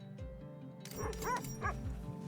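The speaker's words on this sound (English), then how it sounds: "You can also pet the Chow dogs" Chow dogs in The Red Lantern video game give several short yipping barks and bow-wows, fairly close, over a steady game background hum with no talk.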